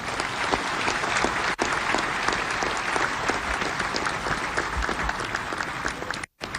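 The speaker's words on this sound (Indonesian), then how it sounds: "memberikan tepuk tangan yang meriah." A large audience at the Indonesian presidential inauguration in the MPR assembly hall applauds steadily, a dense, continuous wash of clapping heard close and loud, with only a brief dip before ending.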